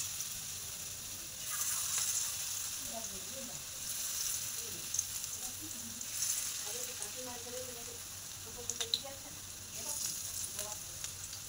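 Soft continuous sizzling of onion fritters frying in oil, with quiet scattered clinks and movement around it and faint talk in the background.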